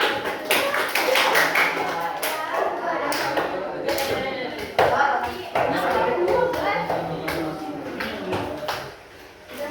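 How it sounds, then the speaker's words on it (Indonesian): A classroom of high-school students applauds together during a biology lesson, with dense, steady clapping filling the room and children's voices mixed in throughout. "Tepuk tangannya semua."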